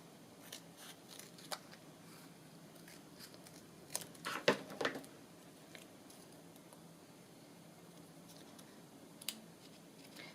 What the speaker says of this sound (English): So I'll just cut a strip. And I'll cut it down.